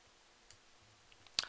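A single sharp mouse click as the login button is pressed on the CodePen site, brief and close against a quiet background, with a few faint ticks just before it.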